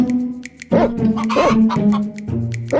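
A hen clucks in a quick series of short calls over about three seconds, fairly loud and close, with a tonal background underneath.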